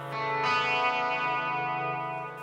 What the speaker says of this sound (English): And it sounds like a guitar note.